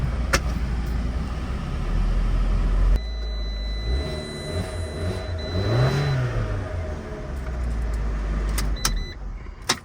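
A 2012 Fiat convertible's engine revs up and settles back in a smooth rising-and-falling sweep, with mechanical whirring and a few clicks, heard close and fairly loud.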